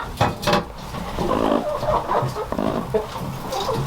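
Broody hens clucking in a backyard coop, a steady run of low, close clucks and murmurs with a few sharper calls.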